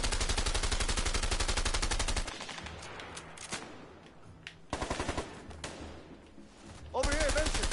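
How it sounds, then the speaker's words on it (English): Rapid automatic gunfire in a video game, fast loud bursts at close range that tear through walls, pausing and resuming in several sustained volleys, with voices talking underneath. "I just shot the entire walls out."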